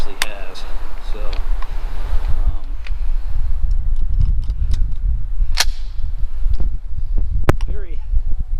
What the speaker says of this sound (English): I am so surprised at the little bit of amount of recoil this gun actually has.